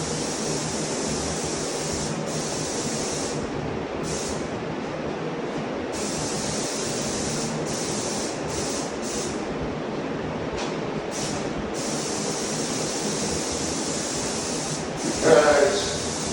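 A paint sprayer applies a light first coat of primer to interior drywall, giving a loud, steady hissing spray that cuts off briefly and resumes in several passes. A voice speaks over it.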